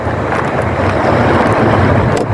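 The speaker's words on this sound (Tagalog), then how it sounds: "malakas yung hangin eh" Strong wind roars steadily and loudly, buffeting with a constant rushing noise from start to end.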